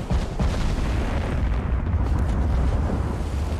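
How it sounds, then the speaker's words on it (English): An 18-inch battleship gun fires and its shell strikes home in Ultimate Admiral Dreadnoughts, heard as a loud sustained boom with a rolling low rumble and no voices. "That was another 18-inch hit."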